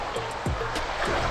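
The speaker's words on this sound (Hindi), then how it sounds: "माउंटेन के बीच से स्ट्रीम निकल रही है" A mountain stream flows beside a rocky path near Robber's Cave in Dehradun, Uttarakhand, giving a steady broadband rush of water that stays even and continuous, with no talk over it.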